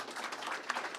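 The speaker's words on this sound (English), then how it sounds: "So let's give a round of applause to Melissa O'Connor." Faint, brief clapping from an audience at Governor Hochul's announcement on fighting retail theft, a soft spattering of hand claps heard from a distance for about a second.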